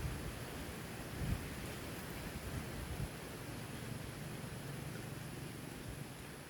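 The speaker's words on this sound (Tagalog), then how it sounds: "malakas ang hangin at malamig" Steady, strong cold wind roars across a field being prepared for planting sweet potatoes, a broad rushing noise with a couple of low buffeting gusts near the start.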